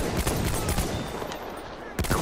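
Pistol gunfire in the video game Battlefield 1, rapid loud shots mixed with dense battle noise and explosions, close and busy throughout, with voices faintly underneath.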